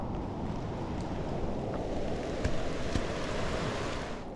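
Steady rain falls during a hike over the snowy Pyrenees mountains, heard as a continuous dense hiss with wind buffeting the microphone, close and unbroken throughout.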